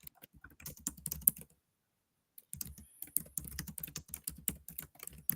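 A computer keyboard being typed on in quick bursts of close, crisp key clicks, broken by a brief silent pause before the typing resumes, with no voices.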